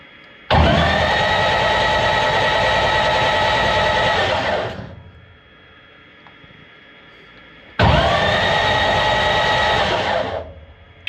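A Sonex AeroVee Turbo aircraft engine is spun over by its starter in two loud, close cranking bursts of about four and three seconds, with a quiet pause between them.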